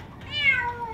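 A single loud, plaintive meow rises and fades from a frightened cat inside an emptied pool.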